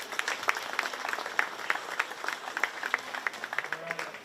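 Scattered clapping from a county fair crowd at a 4-H beef show, applauding market steer exhibitors; sparse, irregular claps over a quiet arena background, moderately distant.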